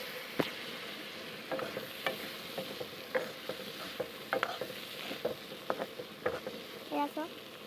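Chana dal and potato pieces frying in hot oil in a pan for Assamese boot dali, a steady soft sizzle broken by frequent sharp clicks and stirring taps, close and moderately quiet with no voices.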